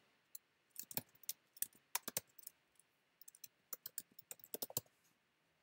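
Keys on a computer keyboard are tapped out in quick, uneven bursts of light clicks while a website address is typed, close and fairly quiet with short pauses between runs.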